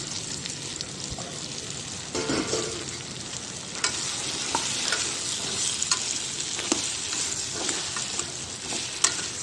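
Onions and tomatoes frying in a pan for an okra curry, giving a steady loud sizzle throughout with occasional stirring scrapes and clicks, no talk.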